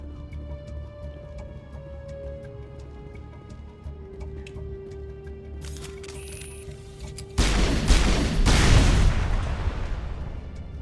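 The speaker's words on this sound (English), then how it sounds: "I like the physics punch on that explosion on this heavy cover" An explosion goes off against heavy cover in the Mass Effect video game, a sudden loud, broad blast that surges about two-thirds of the way in and then decays slowly over a low rumble, following a quieter stretch of faint tones and clicks.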